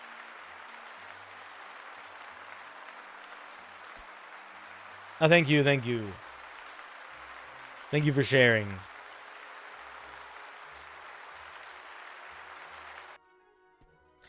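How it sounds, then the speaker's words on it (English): A small audience applauds steadily in a broad, even patter for most of the stretch. Two brief bursts of talking cut through partway, and the clapping stops abruptly near the end. "Let's give Ice and Tangle a little round of applause"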